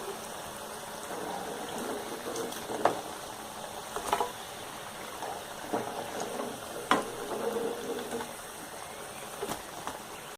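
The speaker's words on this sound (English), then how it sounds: "I have deep fried these mushrooms." Mushrooms deep frying in hot oil, a steady low sizzle and bubbling with a few sharper clinks and taps from utensils against the pan, kept at a modest level and without speech.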